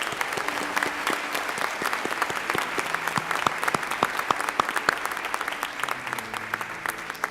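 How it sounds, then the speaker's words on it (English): An audience at a school district awards ceremony honoring paraprofessionals claps in a dense, steady round of applause throughout, with sharper individual claps close by and a faint murmur underneath. "Let us give one more round of applause to our Tomball ISD Paraprofessionals of the Year."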